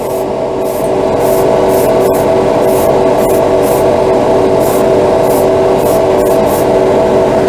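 Airbrush spraying a wet coat of Mecha Empire airforce lacquer paint, a steady close hiss running throughout with short regular pulses of extra spray on top and no talk.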